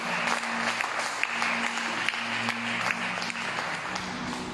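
A church congregation at a French-language Sunday service applauds in a sustained, dense burst of clapping that fills the room steadily for several seconds.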